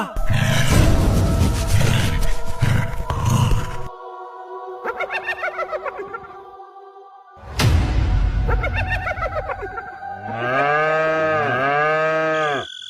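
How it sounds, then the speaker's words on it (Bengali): Loud, drawn-out cattle moos in a shed, one after another, close by, with a few long bellowing calls and short pauses between them. "গোয়ালে গরুগুলো এমন চিল্লাচ্ছে কেন বলো তো?"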